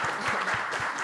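Dense audience applause at a university lecture hall event, a continuous wash of many hands clapping at once, fairly loud and even throughout the short burst.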